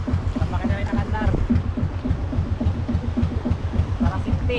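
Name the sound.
fishing boat engine running at sea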